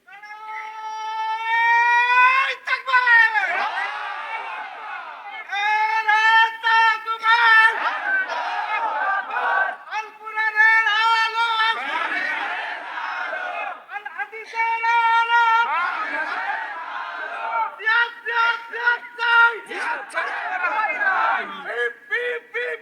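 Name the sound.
crowd chanting takbir (Allahu Akbar) at a religious gathering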